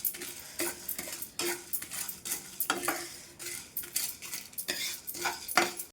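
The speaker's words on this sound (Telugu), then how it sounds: "వీటిని కొద్దిగా వేయించుకుందాం." Chana dal, urad dal and four or five dried red chillies are dry roasted in a pan. A spatula scrapes and clinks against the metal in quick repeated strokes, fairly quiet and close, with a faint crackle and no voices.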